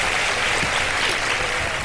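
A game-show studio audience bursts into thick, continuous applause, loud and close, a steady roar of many hands clapping at once with no speech over it.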